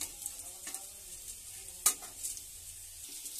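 Bay leaves and dried red chilies frying in oil for a Bengali chicken kosa, with a soft, steady sizzle and a few light stirring clicks and one sharper scrape, no voices.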